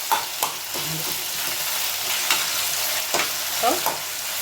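Pepper, ginger and garlic paste sautéing in a pan for baby corn gravy, a steady sizzle broken by several sharp scrapes and knocks of a stirring spoon, close and fairly loud, with no speech.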